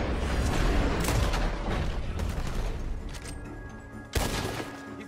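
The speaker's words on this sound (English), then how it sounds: "the gunshots are coming from that barn!" Gunfire rattles in Red Dead Redemption 2 during a shootout near a barn, with loud dense volleys and booming shots that keep up across the stretch, then one sharp heavy crack near the end.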